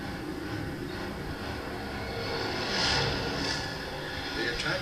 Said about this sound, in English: 167 more planes jumped skyward into the morning light.